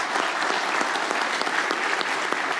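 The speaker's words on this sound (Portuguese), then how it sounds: "Por favor, uma salva de palmas aqui para os nossos panelistas." A conference audience applauds the panelists at a business outlook event: a steady, even patter of many hands, moderately distant and unbroken for the whole stretch, with no voices over it.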